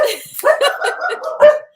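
Dogs bark and yip up close in a short, loud burst, a handful of sharp overlapping barks with whiny edges, fairly near and unaccompanied by talk.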